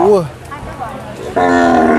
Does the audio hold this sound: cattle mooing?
yes